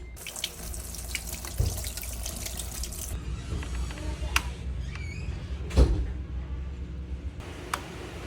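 Tap water runs steadily into a kitchen sink as bitter gourd is rinsed of salt, with a continuous splashing rush, a few clunks of handling and a brief louder knock partway through.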